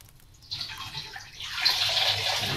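A wet cloth is wrung out during a fire-therapy lesson, and water pours and splashes down. The sound is soft at first, then grows into a louder, continuous trickle in the second half.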